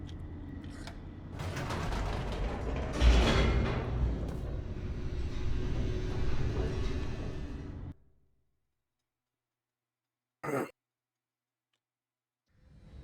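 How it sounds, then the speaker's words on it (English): An elevator descending in The Stanley Parable, a loud grinding, creaking mechanical rumble with ratcheting gear noise for several seconds that stops abruptly, followed by silence, one brief clank and a faint returning hum. "The elevator raced downward, plummeting towards an unknown fate."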